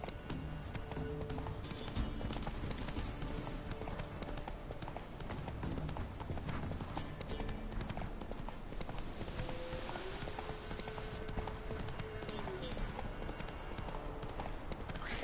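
Hooves of a galloping horse in the video game Witcher 3 clip-clop steadily and continuously throughout, over a dense in-game ambience.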